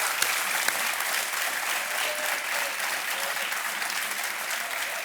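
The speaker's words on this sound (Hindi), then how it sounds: "तालियां बजती रहे।" A TV quiz-show studio audience applauds a contestant's winnings, dense sustained clapping from a large crowd filling the room, steady and fairly loud with no one speaking.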